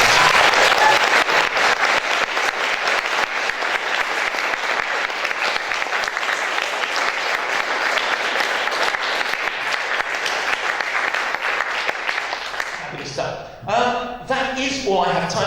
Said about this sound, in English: the third thing, which you deserve far more than either of those, is a terrific round of applause